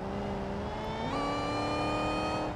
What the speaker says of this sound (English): you can hear the boost, the supercharger